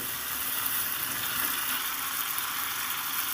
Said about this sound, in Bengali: কিশমিশগুলো দিয়ে দিলাম এবার আরেকবার আমি সুন্দর করে কষিয়ে নেব